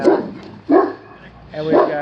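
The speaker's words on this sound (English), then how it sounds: "Over here we've got big dogs." Big dogs barking outside an early-1900s house in Central Texas, three deep, spaced barks close by, with a voice talking around them.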